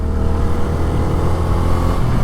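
Bajaj Freedom 125 CNG motorcycle running on petrol while being ridden, a close, steady single-cylinder engine drone with rough low-end pulsing and no talk.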